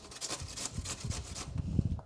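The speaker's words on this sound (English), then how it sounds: "one of the easiest ways to finely chop cabbage for something like this is to grate it" Cabbage is grated by hand in quick rhythmic rasping strokes, a close scraping of leaves against a metal grater repeating several times, no talking.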